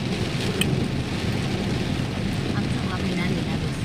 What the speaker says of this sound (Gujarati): આટલો વરસાદ છે, આ ધબધબાટી વરસાદ આવે છે.